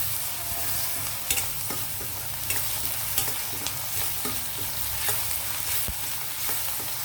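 Ginger garlic paste fries with onions in a pan for a chicken potato curry, giving a steady sizzle with occasional scraping clicks as it is stirred.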